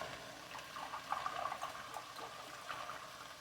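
Chicken broth pouring steadily into a pot, a soft continuous trickle and splash at moderate level with no talking.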